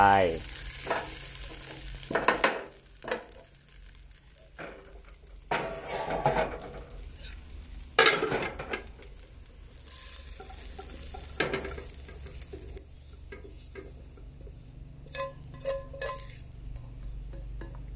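Herbal Thai fried rice with budu chili paste is stir-fried in a pan, with a soft sizzle and repeated scraping and clinking of a utensil against the pan in irregular bursts, close by and without speech.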